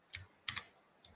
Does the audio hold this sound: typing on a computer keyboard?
yes